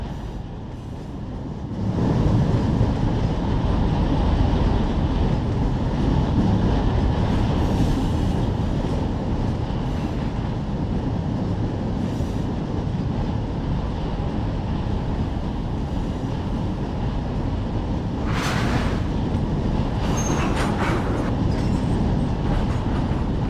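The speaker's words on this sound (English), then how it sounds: "Looks like we got quite a train here." A long train in the Run 8 train simulator game rumbles steadily along the rails, a heavy continuous low roar with faint clacking and brief higher squeals near the end.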